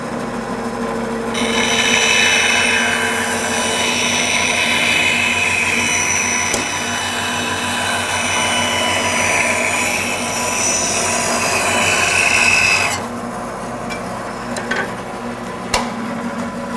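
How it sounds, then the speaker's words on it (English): A band saw ripping a straight piece off a wooden board, running as a loud steady whine and hum for about twelve seconds before the cut ends and the motor settles into a quieter spin-down with a few faint clicks. "I'm going to turn on the saw, and we're just going to guide it right through."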